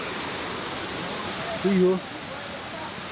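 Malico Falls in Pangasinan rushes as a loud, steady broadband roar that fills the whole stretch, while a brief voice rises over it near the middle.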